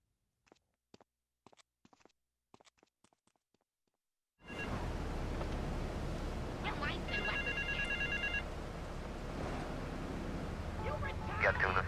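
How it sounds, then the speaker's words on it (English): Payphone ringing in the GTA 3 video game on PS5, a repeating electronic ring that stands out over steady traffic and city ambience, with a voice heard in the opening quieter seconds. "Get to the payphone in Torrington as quick as you can and await his instructions"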